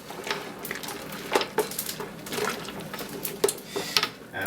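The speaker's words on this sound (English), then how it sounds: "So we'll give this a stir here." A spoon scrapes and knocks around a metal pot of home-brewed Christmas ale being stirred, irregular close clanks and scrapes over a steady wash.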